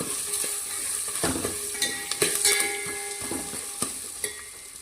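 Chopped onion sizzles in oil and is mixed for vangibath, a close, even frying hiss broken by sharp metallic spatula scrapes and taps against the pan, with no talking.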